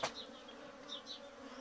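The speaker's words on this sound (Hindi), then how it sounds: "ये देखिए मधुमक्खी का होल।" Honey bees from a hive set into the wall of a village house buzz steadily at close range, a soft continuous drone with a few brief louder passes as individual bees fly near.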